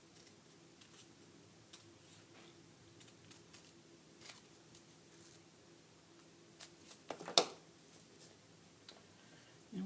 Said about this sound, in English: Cutting it out now, coming down.